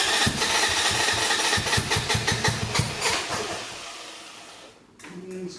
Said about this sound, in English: Let's go ahead and pull that choke out just a skoosh. Should help it start.